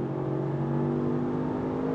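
A 2024 Range Rover Sport SV P635 engine accelerates, giving a muted, steady drone with a low tone that rises gradually while heard from inside the cabin.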